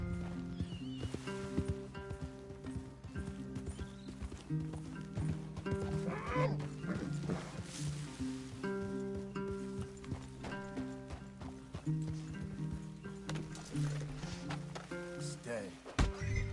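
Horses in Red Dead Redemption 2 clop and shift about with occasional whinnies over a dense musical score, while voices talk throughout.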